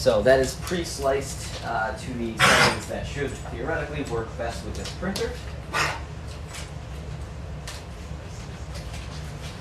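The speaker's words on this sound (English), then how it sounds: "That is my dog choking on too much water" A dog chokes and sputters after gulping too much water, a few rough yelping, gagging bursts early on under someone talking steadily about a resin printer, then fading to quieter sounds as the talk continues.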